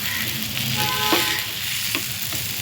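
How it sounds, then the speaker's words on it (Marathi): Brinjal (eggplant) slices frying in a pan over a low gas flame, giving a steady, close sizzle throughout with a few soft clicks of turning. "वांगी बघा एक साईडनं शिजली आहे ती स्लो गॅसवर शिजवायची आहे"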